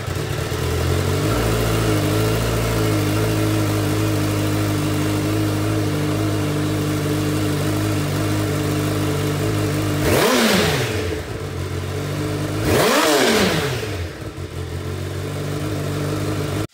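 A Honda CBR1000 with its stock exhaust idles steadily nearby, then is revved twice in quick, sharp bursts, each rising to a loud snarl and falling back to idle.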